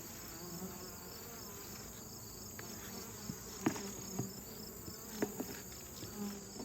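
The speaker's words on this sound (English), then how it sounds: "They've got bees up here on the inner cover." Honey bees crawl over a beehive inner cover, filling the air with a steady, close, continuous buzz and occasional soft taps and knocks.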